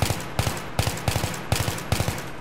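A rifle fitted with a foregrip and heavy barrel in Battlefield 3 fires short, rapid bursts of a few shots each. The bursts are sharp and close, repeating at a steady rhythm about every 0.4 seconds.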